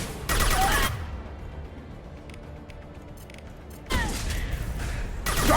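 Mass Effect 2 combat against the Geth: two loud bursts of rapid gunfire, one near the start and another toward the end, with quieter mechanical rattles and clicks between them.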